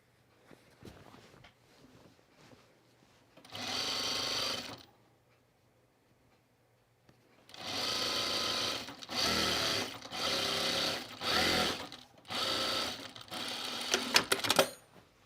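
A sewing machine stitches a seam on a pajama top in several loud bursts of rapid whirring, one short run followed by a pause and then a series of longer runs separated by brief stops, with light handling clicks between.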